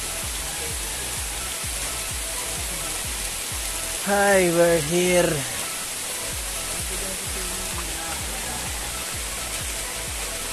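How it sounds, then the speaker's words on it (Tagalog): Heavy rain pours down in a dense, steady roar that never lets up, with a person's voice briefly speaking over it midway. "Stranded na ang lakas ng ulan, no?"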